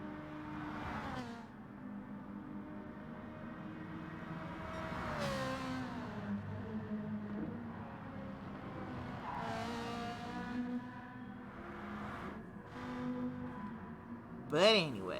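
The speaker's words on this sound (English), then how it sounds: "No turbos at all, just pure exhaust sounds. It's also a 12-cylinder, so it's going to sound different altogether" A naturally aspirated 12-cylinder race car in a racing video game wails through repeated rising revs and gear shifts, with a tire squeal near the end, over a commentator talking.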